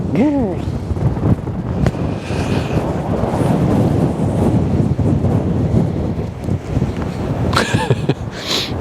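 Strong wind buffets an outdoor microphone at a waterside ship-spotting spot, a loud continuous rumbling roar with a brief voice at the start and near the end.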